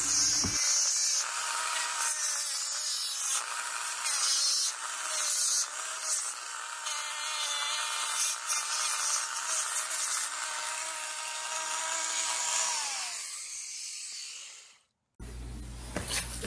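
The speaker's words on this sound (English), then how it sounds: "Here, I'm using a Dremel sanding disc to polish the combustion chambers." A Dremel sanding disc polishes the combustion chambers of a cylinder head, giving a steady, high-pitched whine and gritty scraping up close, then cutting off abruptly before a brief low hum.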